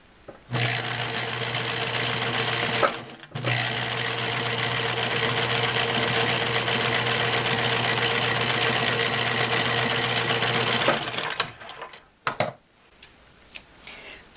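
A sewing machine runs steadily and loudly as it hems the bottom edge of a sweater. It stops briefly after a few seconds, restarts for a long continuous run, then gives a few short stitching bursts and handling clicks at the end.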